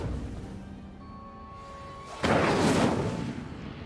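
An Incendio fire spell is cast in Hogwarts Legacy. A low humming tone gives way to a sudden loud whooshing burst of flame partway through, which roars briefly before easing off.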